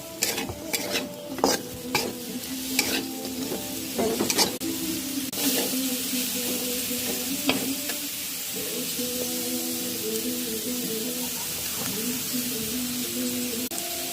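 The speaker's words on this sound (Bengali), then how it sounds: "পেঁয়াজ রসুন শুটকির লগে একটু সময় নিয়ে বাজবো" Onion, garlic and dried fish fry in a pan, a steady close sizzle with clinks and scrapes of stirring scattered through, the stirring busiest early on.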